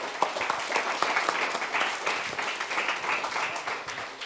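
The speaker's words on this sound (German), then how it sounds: "Einmal einen großen Applaus an uns alle." Continuous applause from an audience at a youth hackathon's closing presentation, a dense, moderately loud patter of many hands clapping for several seconds with no voices over it.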